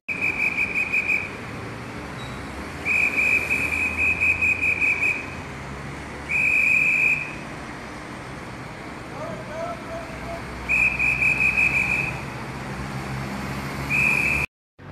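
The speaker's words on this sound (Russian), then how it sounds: "иду я такая, иду и слышу звуки свистка" Police whistles directing traffic on an Antalya street: shrill, steady blasts repeat in several long bursts and a few short ones over a constant hum of road traffic, loud and close.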